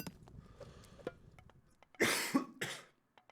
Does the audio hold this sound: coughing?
yes